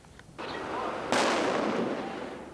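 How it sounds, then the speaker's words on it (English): A firework goes off as a single sharp bang that rolls into a long crackling, hissing burst, fairly close and loud, with no one talking. "We have a graphic demonstration of the power of fireworks"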